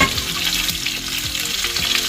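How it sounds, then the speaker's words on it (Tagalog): Oil sizzles and crackles steadily as fish fries in a pan, close up, with faint scraping of a utensil now and then. "i-prito na natin yung ating isda"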